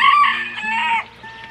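Chickens and a rooster crow and cluck loudly and close by, a single drawn-out crow-like call breaking off after about a second into softer clucks.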